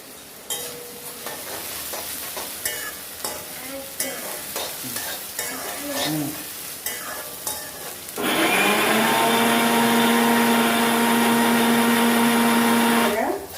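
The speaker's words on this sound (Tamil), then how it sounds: "இதை நம்ம கொஞ்சம் டீப்பாக ஃப்ரை பண்ணிக்கிடலாம்" Onions and curry leaves fry in a pan while being stirred, giving repeated scraping clinks over a sizzle, followed by a loud, continuous hissing roar in the second half.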